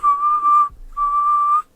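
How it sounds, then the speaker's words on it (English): A person whistles two long, steady notes at a single pitch, separated by a short breath, close and fairly loud with no talking. "One of the worst whistles ever seen."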